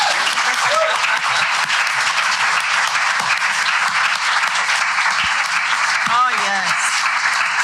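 Sustained applause from an opera tribute audience fills the whole stretch, dense and steady, with a few words spoken over it near the end.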